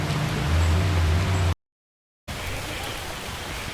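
Steady rain falls during a night walk in the jungle, a dense continuous hiss that drops out briefly to silence and then resumes slightly softer, with no clear voices over it.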